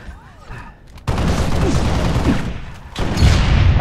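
Sniper rifle shots fired without scoping in a Halo 4v4 Slayer match, a sudden loud gunfire burst near the one-second mark followed by sustained dense game noise and a second heavy blast near the end.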